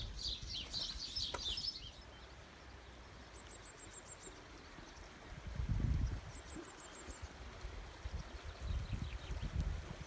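A stream flows under a bridge in Snowdonia near Penmachno, giving a steady low rush of water with a few surges, while birds chirp faintly in the distance.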